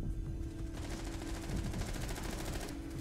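Rapid automatic gunfire from the video game Call of Duty, Operation Deep Freeze, rattling in sustained bursts with dense repeated shots over a busy game soundscape.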